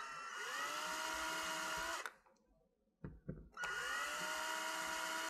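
A power drill whines steadily and loudly driving a bolt into a wall, stops briefly with a few clicks and knocks, then revs up again at full speed.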